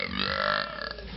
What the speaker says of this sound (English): let's hear you burp